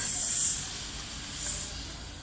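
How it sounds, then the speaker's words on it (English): A steady, close hiss of steam escapes from an antique steam boiler engine, about 22 inches wide and 20 inches tall and fed by a half-inch line, holding a constant rush with a slight swell midway and no voices. "I'll turn on the steam here."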